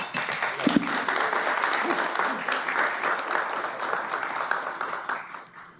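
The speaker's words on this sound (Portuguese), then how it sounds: "Vou pedir uma salva de palmas para o Alex." Sustained audience clapping at an awards presentation for finalists, a full even roar of many hands filling the room from start to finish before tapering slightly.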